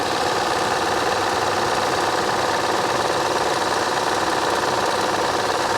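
An MG Midget's engine idles steadily and evenly for several seconds, a constant mechanical hum with no voices.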